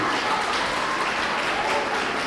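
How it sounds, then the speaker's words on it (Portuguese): A church congregation claps together in a dense, loud, continuous wash of applause that holds steady throughout, filling the room. "Aplauda, eu recebo,"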